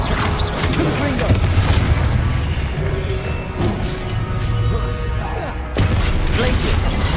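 Repeated heavy booms and crashing blasts from Confringo fire spells in the video game Hogwarts Legacy, layered in a dense, loud stream of magical combat effects with few pauses.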